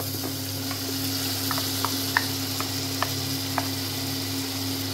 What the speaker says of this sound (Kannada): ಹಸಿ ಸ್ಮೆಲ್ ಹೋಗೋವರೆಗೂ ಚೆನ್ನಾಗಿ ಫ್ರೈ ಮಾಡ್ಕೊಳ್ಳಿ ಇದನ್ನು